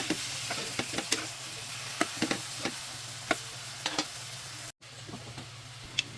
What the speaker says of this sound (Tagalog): Ilalagay ko na itong pork belly natin. So, halo-halo lang habang maluto ito.